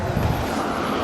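Strong wind blows at Tuno Dam, a steady, loud broadband roar buffeting the microphone with no break and no other sound.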